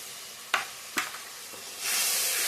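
Ground cumin and coriander powder sautéing in a pan for a vegetarian dish: two sharp stirring scrapes, then a steady, bright sizzle swelling up close toward the end, with no voices.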